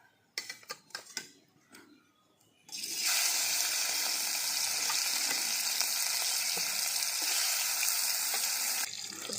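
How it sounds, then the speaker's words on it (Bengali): Marinated fish pieces hit hot oil in a pan, starting after a few faint clinks and bumps, then a loud steady sizzle and crackle that holds for several seconds before easing slightly. "ম্যারিনেট করা মাছগুলোকে ভেজে"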